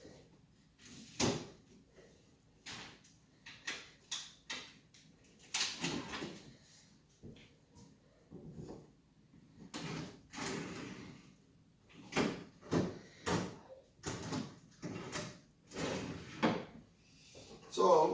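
Wooden kitchen drawers slide open and shut repeatedly during a DIY kitchen facelift remodel, a string of close clunks and knocks with a person talking in between.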